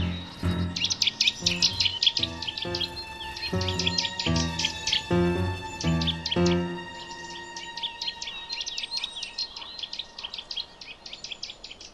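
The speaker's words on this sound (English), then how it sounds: "This is a particularly cheeky bird, at least in my view, the nuthatch." Nuthatch calling in woodland: bright, rapid bursts of repeated whistled notes come in quick volleys, loud and fairly close, with pauses between phrases and other faint birdsong in the background.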